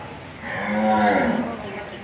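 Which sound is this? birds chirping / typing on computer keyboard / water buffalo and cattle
water buffalo and cattle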